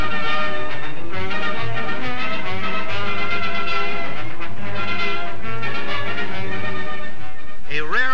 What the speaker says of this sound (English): steam locomotives haul New York's elevated trains